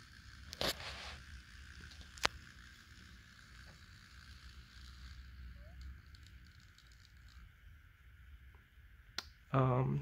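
A Bachmann model of a 45-ton GE diesel locomotive converted to Hon3 narrow gauge runs with a faint, steady motor whine and hum, broken by a few sharp clicks and a louder clatter at the end.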